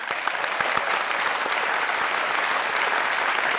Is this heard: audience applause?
yes